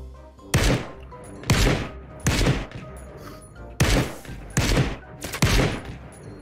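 Gunfire in the battle royale game Ring of Elysium: six loud, sharp shots or short bursts spaced roughly a second apart, each with a brief echoing tail, over quiet background.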